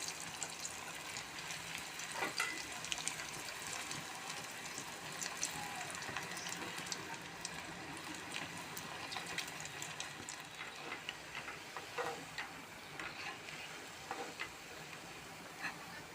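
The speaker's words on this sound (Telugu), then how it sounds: "ఆయిల్ హీట్ అయిన తర్వాత మీడియం ఫ్లేమ్లో పెట్టేసి బ్రెడ్ స్లైస్ని యాడ్ చేసుకుని ఫ్రై చేసుకుందాం" Bread slices fry in hot oil over a medium flame for bread halwa, giving a steady, soft sizzle and crackle at close range that continues evenly throughout without talk.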